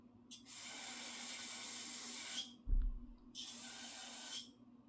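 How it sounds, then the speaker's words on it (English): Two long bursts of aerosol cleaner spray hiss up close on an old pressure washer's carburetor fuel line, separated by a short pause and a dull knock. "I'm gonna spray down this fuel line"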